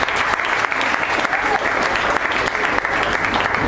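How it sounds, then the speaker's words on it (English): A big round of audience applause honoring award recipients, loud, dense clapping from a crowd that stays steady throughout with slight pulses in intensity. "I hope you give them a big round of applause"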